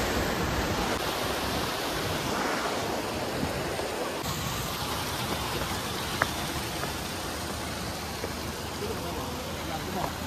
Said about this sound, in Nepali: यो चाहिँ हो खोला त्यो पाइपहरू बनाउनु भएको छ खोलाको पानीको